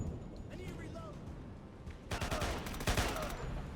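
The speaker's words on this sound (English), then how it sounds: "This LAMG sounds dope." An LAMG machine gun in the video game Door Kickers 2 fires a dense burst of rapid shots that begins partway through and dominates the latter half, following quieter game sounds.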